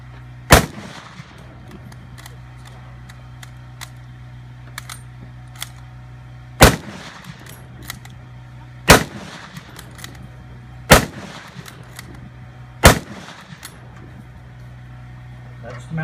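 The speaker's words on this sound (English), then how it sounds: "That's the Mauser Kar 98K, a rifle that was issued to the German soldiers throughout the entire war." Single loud, booming shots from a Mauser Kar 98K bolt-action rifle ring out five times at spaced intervals of about two seconds, with a steady background hum and faint handling clicks between them.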